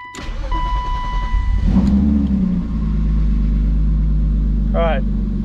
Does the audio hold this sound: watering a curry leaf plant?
no